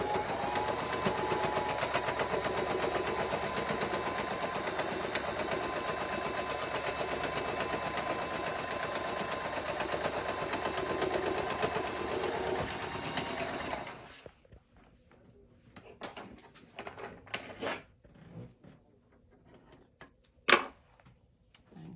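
A sewing machine runs a long basting stitch across the top of a tea towel bag, a fast steady whirring clatter for about fourteen seconds, then stops, leaving scattered quiet clicks and handling noises.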